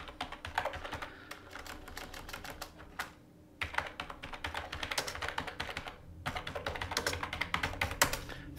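Computer keyboard typing in steady bursts of close, crisp keystrokes, with brief pauses between runs and no talking.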